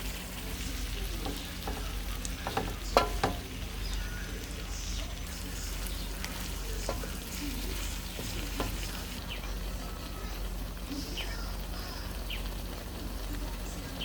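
Shrimp sautéing in a pan give off a steady, close sizzle with scattered pops and a few utensil clinks, and a voice speaks over it at times.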